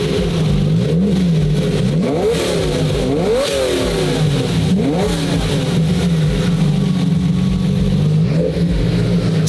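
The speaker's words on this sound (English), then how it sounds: "give it a couple more revs" A manual V12 Lamborghini engine idles and revs up several times, each loud rev climbing and dropping back to a rough idle.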